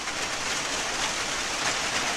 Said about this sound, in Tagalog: Ulan pag yun.